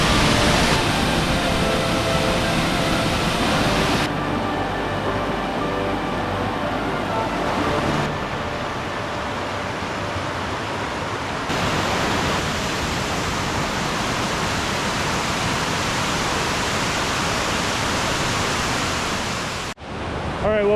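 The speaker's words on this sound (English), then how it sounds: "So this is waterfall number 20 for the day" A waterfall in Ganoga Glen at Ricketts Glen gives a loud, steady, broadband rush of falling water that continues throughout and shifts slightly in level, ending abruptly.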